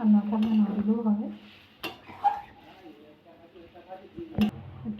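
Potato and pointed gourd curry with shrimp is stirred in a pan, giving close scraping and clinking with a low sizzle underneath, while someone talks over the first half.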